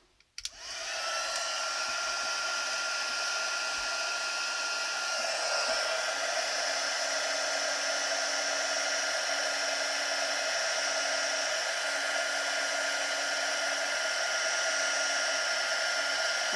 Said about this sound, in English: I'm going to use the heat setting on number 2 now